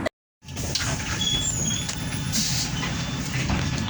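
A bus sounds on a street, with a steady engine rumble and traffic hiss plus a few high beeps, all heard after a moment of silence at the start.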